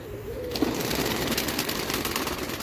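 Tumbler pigeons and their newly hatched chicks coo softly amid a dense, constant rustling background, with occasional faint wing flutters.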